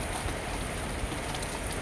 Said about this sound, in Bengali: এই দুপুরবেলায় এখন বৃষ্টি শুরু হয়ে গেছে